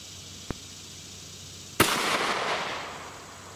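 A single 30 Super Carry pistol round loaded with Federal HST is fired into a ballistic gel block, a sharp loud crack with a rolling echo tail, preceded by a faint small click.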